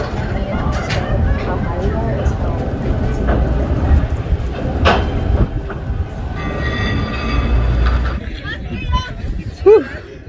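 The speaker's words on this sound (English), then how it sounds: "there goes the tram." Incline railway tram on Lookout Mountain in Chattanooga, Tennessee rolling past with loud rumbling and rail clatter, steady for most of the stretch, with people chattering nearby and a brief squeal near the end.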